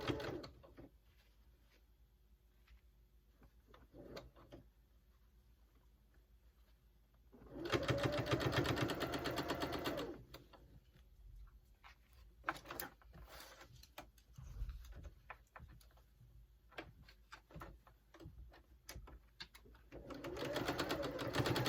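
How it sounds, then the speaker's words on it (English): Sewing machine basting the sides of a homemade fabric face mask with a quarter-inch seam, running in close bursts of rapid stitching separated by quiet pauses and handling clicks. "the first thing I'm going to do is sew these sides, and I'm just going to use a little 1/4 inch seam"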